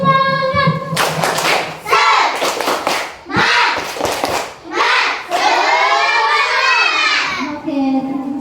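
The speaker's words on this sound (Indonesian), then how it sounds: "Tepuk semangat" Schoolchildren in an Indonesian classroom perform the rhythmic spirit clap, tepuk semangat: bursts of unison clapping in a patterned beat alternating with shouted chanting voices, loud and close.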